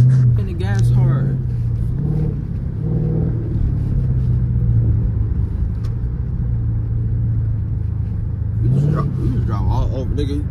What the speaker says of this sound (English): Hitting the gas hard.